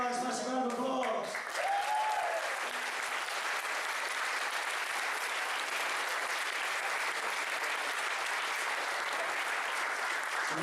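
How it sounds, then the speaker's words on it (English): Sustained applause from a crowd at a gaming convention award ceremony, steady and full, after a brief voice at the start. "Massive round of applause."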